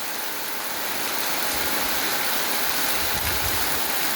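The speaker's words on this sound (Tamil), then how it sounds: "இன்றைய மழை கொட்டுது, குஞ்சு குளத்தில் மழை கொட்டுது" Heavy rain pours down at Kunju Kulam as a dense, unbroken rushing hiss, loud and even throughout, with no one speaking.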